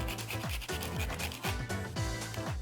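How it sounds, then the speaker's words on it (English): Nutmeg ground over a dish with a zester, giving a close, steady run of raspy scraping strokes in quick rhythmic bursts. "We have this zester, and I'm just gonna grind some nutmeg on top."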